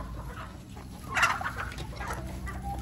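Paper white chickens and other farm fowl cluck in a small flock nearby, with scattered calls over a low steady background.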